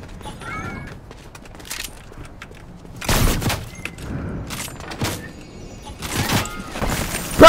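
Gunfire in a video game, a few sharp bursts of shots separated by quieter stretches, loud and close, with scattered smaller game sounds between them.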